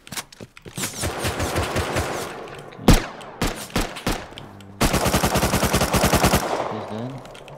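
Rapid bursts of M39 rifle gunfire in an online shooter game, loud and close, with several volleys, isolated single shots and a final sustained rapid string.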